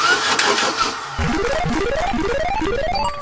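Starter motor cranking a car engine on 12 volts, a steady mechanical whirr with repeating rising pulses as the engine turns over, loud and close, with no voices.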